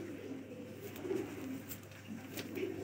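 Highflyer pigeons at a breeder's loft in Lahore coo in soft, repeated low phrases against a steady hum, with occasional brief clicks and no clear talk.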